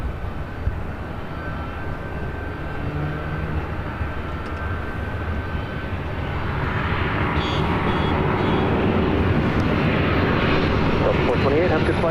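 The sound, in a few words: airplane engines at LAX airport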